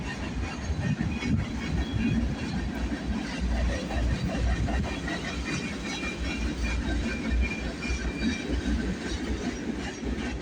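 A freight train led by CSX locomotives rolls along the CPKC Galt Subdivision at Bronte on a cold morning, giving a continuous heavy rumble with rhythmic clickety-clack of wheels over rail joints, fairly close and with no talking.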